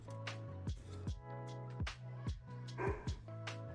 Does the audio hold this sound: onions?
no